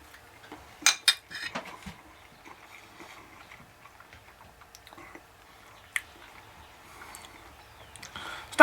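Metal cutlery clinks and scrapes against a plate while someone eats smoked sausage and rice, with sharp taps early on, sparse quiet scraping in between and another clink near the end; nobody speaks.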